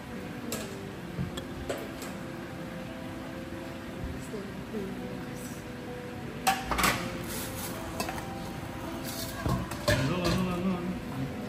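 A kitchen knife taps and chops through food on a cutting board while Sunday lunch is cooked at home, with irregular light knocks, a few louder thuds, and some faint dish clatter.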